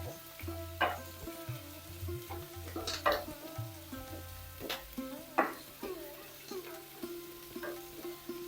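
Fennel seeds and asafoetida frying with onion for an okra dish, a soft sizzle under repeated scraping and stirring strokes of a spoon against the pan, near and fairly quiet.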